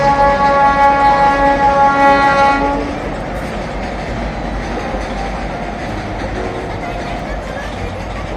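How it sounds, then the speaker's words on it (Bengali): A Howrah–Medinipur local train sounds a long, loud horn blast, then rumbles and rattles steadily along the rails, close and sustained until the end. "আমরা মেদিনীপুরগামী হাওড়া মেদিনীপুর লোকাল ট্রেনে গিয়েছিলাম"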